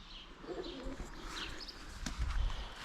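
Birds in a backyard coop, tagged as lovebirds, coo and chirp faintly at a distance over steady outdoor background noise, with a soft low rumble near the end.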